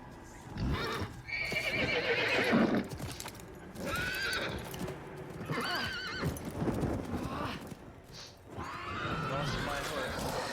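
A horse in a video game gallops with rapid clip-clop hoofbeats and lets out several loud whinnies, with a person talking over the game sound.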